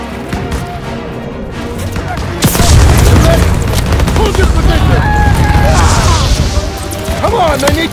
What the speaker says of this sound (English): Suppressive fire! Keep firing!